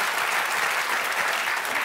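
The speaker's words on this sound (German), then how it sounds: "Sie können direkt weiter klatschen" Studio audience applause on a German TV satire show, a dense, steady burst of clapping from many hands that stays loud throughout.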